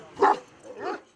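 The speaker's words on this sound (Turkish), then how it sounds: "Kangal zekası, sadakati ve cesaretiyle ünlü bir köpek ırkı." Young purebred Kangal dog gives two short barks, the first sharp and loud, the second softer and more drawn out, close by with no other sound.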